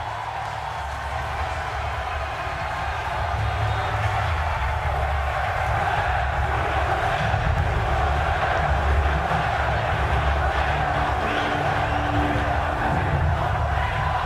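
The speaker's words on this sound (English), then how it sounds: "The crowd reactions, though, says everything to me. Fantastic reception for both teams." A large arena crowd at Dota 2's The International 2015 cheers as teams enter, forming a dense, sustained roar that grows louder after the first few seconds and holds steady.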